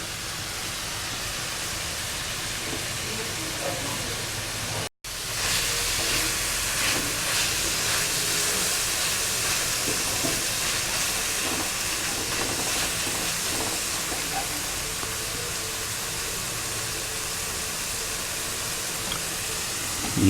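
Tawa kaleji, goat liver, fries on a hot griddle over a low flame, giving a steady broad hiss and sizzle that holds evenly for about twenty seconds, broken by one brief cut near the start.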